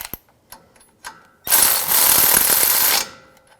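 Ratchet tightening a castle nut on a tie rod of a 2011-2018 Ram 1500, a few faint clicks followed by a loud, steady ratcheting run of about a second and a half, close by.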